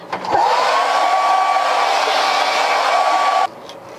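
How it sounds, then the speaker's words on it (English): A handheld hair dryer whirs loudly and steadily at close range for several seconds with no talking, then switches off abruptly, leaving a faint hum. "There's my hair dryer."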